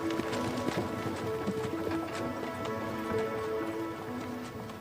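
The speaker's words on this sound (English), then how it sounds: "People have travelled these old forest roads by horse." Horse hooves clip-clop steadily along an old forest road, a continuous rhythmic run of close, clear hoofbeats with no talk over it.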